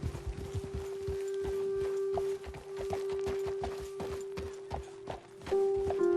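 Horse hooves clip-clop at a steady walking rhythm in Red Dead Redemption 2, several animals moving together on a road, with a constant tonal hum from the game running underneath the close, evenly spaced hoof steps.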